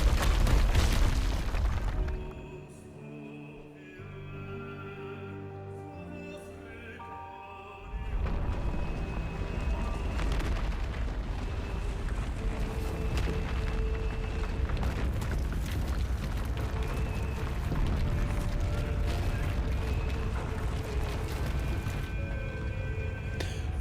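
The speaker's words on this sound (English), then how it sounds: "the final boss's lair, of course, is destroyed and collapses" The final boss lair crumbles in Stellar Blade, heavy booms and rumbling collapse opening loud, a quieter lull with tonal ringing, then a sustained thundering cascade of falling debris and low rumble for the rest.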